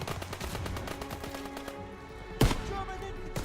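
Machine gun fire in the World War II shooter game Call of Duty WW2, a dense run of rapid bursts with one sharp, louder shot near the end.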